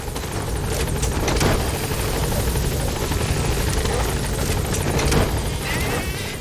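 A helicopter in the video game Metal Gear Solid V whirs loudly and continuously with a steady rotor thrum, close and filling the scene.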